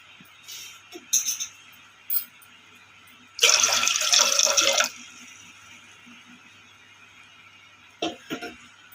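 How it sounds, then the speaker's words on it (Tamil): Water splashes into a cooking pot for a fenugreek kali recipe, a dense burst of about a second and a half midway, with a few short clinks and knocks before and after in a quiet kitchen. "ஒரு பாத்திரத்தை தண்ணி ஊற்றிக்கலாம்"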